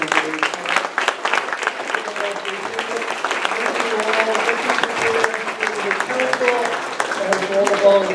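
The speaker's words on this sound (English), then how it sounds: "also a big round of applause for all the candidates" Sustained applause from an audience at a city council district candidate forum held in an elementary school, dense clapping filling the room evenly for the whole stretch with some voices mixed in.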